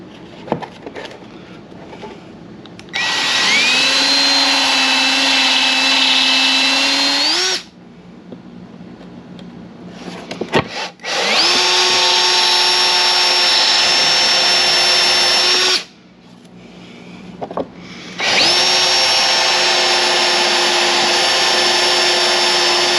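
A cordless drill bores a 3/4-inch hole for a Pan America top rack installation in three long, loud whining bursts, the motor pitch shifting as it bites, separated by short pauses.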